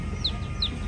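A chicken gives two short, bright clucks in quick succession, close by, over a steady low background hum.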